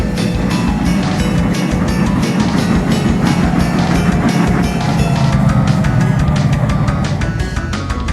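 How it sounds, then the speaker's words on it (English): A loud, steady rumble of a train rolling along the tracks, with continuous low-end roar and faint rhythmic clatter throughout. "The rescue train turned around on a loop track and pulled Larry and the snowplow out of the snowdrift"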